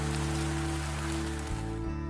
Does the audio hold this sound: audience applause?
no